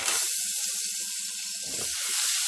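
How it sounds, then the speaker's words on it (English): Peas and carrots sauté in a pan, giving off a soft, steady hiss with a few faint low bumps and scrapes underneath and no talking. "I'm going to saute that to develop some flavor"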